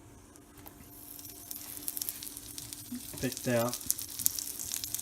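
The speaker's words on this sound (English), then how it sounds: "I threw a little piece of mushroom on there, and it looks like it's sizzling" Pieces of chicken of the woods mushroom sizzle and fry in hot butter in a pan, a steady crackle with a louder burst of sputtering midway as more pieces go in, and a voice speaks briefly.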